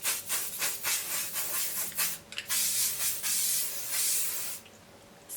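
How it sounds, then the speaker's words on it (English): Hairspray hisses from an aerosol can onto hair in a run of short, bright spritzes close to the microphone, followed by a few longer continuous sprays, with no talking. "we're just going to give it one last spritz of hairspray to make sure it's going to last"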